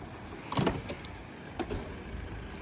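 A Volkswagen Passat Alltrack 2.0 TDI locks by remote, giving a couple of faint mechanical clunks and a short whirring motor, heard close and quiet with no talk.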